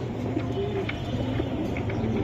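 Soft, low coos of a silver Giribaz racing pigeon repeat a few times over a steady background hum, fairly close and unhurried.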